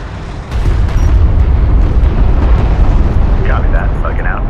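Weapons fire and explosions rumble continuously in the Homeworld: Deserts of Kharak strategy game, a deep, loud, sustained barrage that swells in after a brief quiet start, with faint radio chatter tones near the end.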